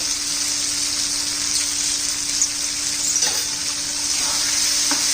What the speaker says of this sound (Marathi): ते पण तेलामध्ये परतून घ्यायचं